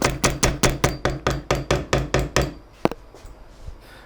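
A small hammer taps a bolt-on guitar neck into its wooden pocket, about a dozen sharp, evenly spaced knocks, then one last louder strike and a few faint taps.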